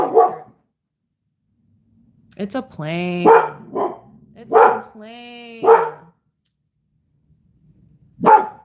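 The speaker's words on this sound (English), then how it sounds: "Dog doing her job." A dog barks at a passing plane in a few loud, close bursts, spaced out with pauses, while people talk nearby between the barks.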